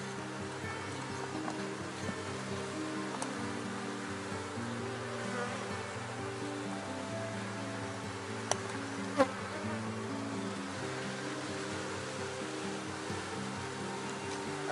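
A honeybee swarm given foundation wax hums in a steady, dense buzz that continues unbroken throughout, close and even in loudness, with no talking.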